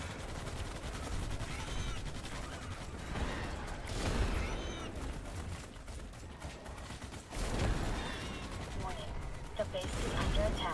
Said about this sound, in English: this rocket launcher is pretty handy